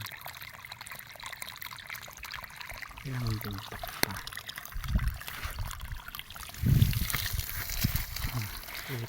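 Irrigation water coming down from the mountain trickles into an onion field as a faint, steady wash of flow while people talk over it.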